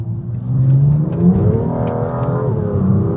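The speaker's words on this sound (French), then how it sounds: "Attends, je vais accélérer un petit coup parce qu'elle m'a manqué." Audi RS3 accelerating hard, a loud close engine note rising and surging steadily for about three seconds with no talk.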